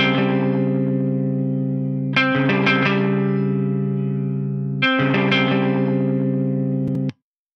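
An electric guitar through a Neural Amp Modeler amp capture plays sustained chords with a slightly broken-up, gritty clean tone, each strum ringing out long before a final abrupt stop.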